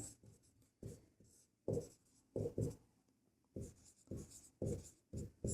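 Pen writing given values on paper, with short scratchy strokes in quick bursts separated by brief pauses, close and quiet, no talk.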